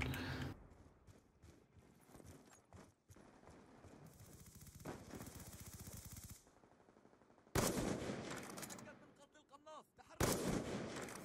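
Gunfire in Black Ops 2, dense bursts of automatic shots and heavy booming blasts in long stretches, loud and close, with brief quieter gaps between volleys.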